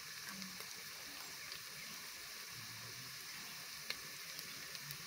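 Dry spice powders (chili, turmeric, coriander) sizzling steadily in hot oil while being stirred, a faint continuous crackle with occasional soft scrapes.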